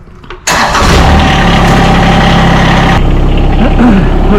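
A John Deere X758 lawn tractor engine cranks briefly, catches and settles into a loud, steady idle close by, its rumble continuing without pause.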